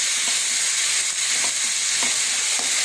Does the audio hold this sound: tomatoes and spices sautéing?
yes